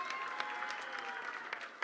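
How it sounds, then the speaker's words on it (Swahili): Crowd applause at a large political rally in Kenya's Kasarani stadium, a short, steady wash of clapping mixed with a faint tonal murmur from the crowd. "mpigie makofi tafadhali."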